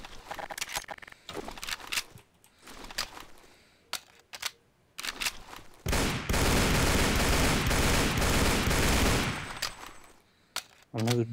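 SG-44 rifle from a Day of Defeat: Source weapons addon in Garry's Mod, firing a sustained loud burst of about four seconds, preceded by scattered single shots and handling clicks.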